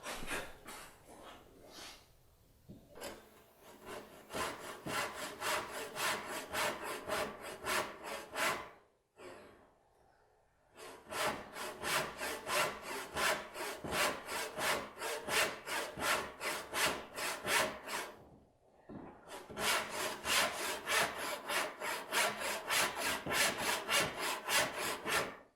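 A hand saw cuts wood for a rising dovetail joint in quick, steady rasping strokes, running in three long bursts separated by two short pauses.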